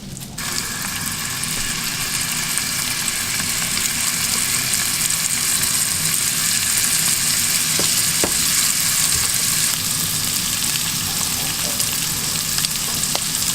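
Salted and peppered scallops searing in a hot pan, a loud, continuous sizzle up close, with a few faint clicks of the pan partway through.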